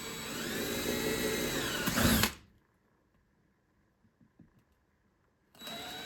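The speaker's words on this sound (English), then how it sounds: "that's just as simple as picking a spot and drilling" A power drill bores a hole through a panel for a trigger wire, a loud steady whine rising briefly as it breaks through, then silence with faint handling clicks before the drill spins up again.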